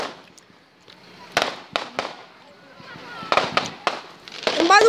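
Fireworks burst outdoors at a bonfire night, several sharp cracks and bangs at irregular intervals, some with crackling tails, near and loud, while people talk in between.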